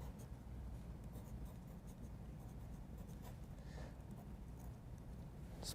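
A pencil scratches across paper during a lecture, a faint, continuous gritty scraping with a few brief louder strokes over a steady hiss of room noise.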